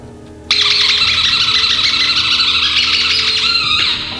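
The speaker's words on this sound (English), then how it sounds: "keep count of how many times Japan will squeeze the buzzer" A handheld squeeze buzzer gives a loud, continuous squeaky buzzing that starts abruptly and holds for about three seconds before tapering off, harsh and piercing.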